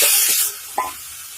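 Taro leaves hit a hot pan already holding fried shrimp and soft taro, and they burst into a loud sizzle that quickly dies down. A shorter hiss flares once more soon after.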